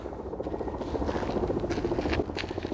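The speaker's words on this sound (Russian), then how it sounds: "Военный вертолет «Аллигатор»," A Ka-52 Alligator military attack helicopter's rotor thumps rhythmically at a moderate distance, a steady pulsing drone throughout.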